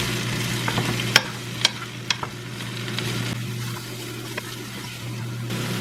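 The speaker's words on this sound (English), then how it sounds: "We are going to add in some minced garlic" Minced garlic hits a pan and sizzles steadily up close, broken by a few sharp utensil taps and clinks against the pan, with no talking.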